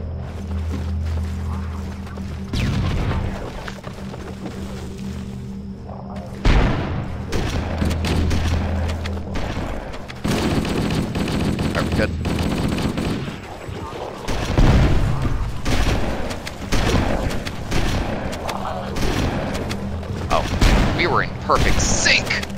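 Frag grenade and gunfire in the Halo video game, playing the level Keyes on Heroic: a loud sequence of explosions and bursts of weapon fire layered with game effects, while players talk over the action.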